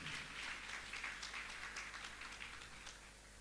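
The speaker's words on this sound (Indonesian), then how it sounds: "Berikan tepuk tangan." A church congregation applauds during a Sunday service, a steady wash of many hands clapping that holds evenly for a few seconds at a moderate, somewhat distant level, with no voices standing out.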